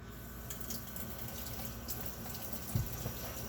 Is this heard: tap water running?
yes